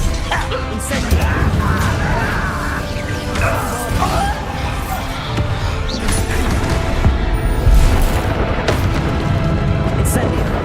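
Fiery spell blasts crackle and boom amid a steady wash of combat crashes and thuds in Hogwarts Legacy, a wizarding video game, with voices speaking over the continuous battle noise.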